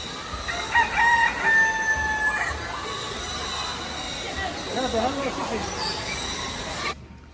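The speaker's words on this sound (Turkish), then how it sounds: "Kuş geldi Kaan." A rooster crows loudly nearby, then clucks, while chicken sounds and a low background hum continue before cutting off.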